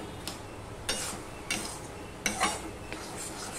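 Vegetable curry of bottle gourd with sugar stirred in a pan, a series of spoon scrapes and clinks against the metal over a faint sizzle, no talk.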